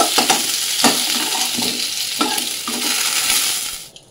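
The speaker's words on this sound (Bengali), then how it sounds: "আলু পটলগুলো কিন্তু ভালো করে লাল লাল করে ভেজে নিয়েছি" Potato and pointed gourd pieces frying in oil in a pan, a loud, close sizzle broken by sharp scraping clicks of stirring every second or so, fading out at the end.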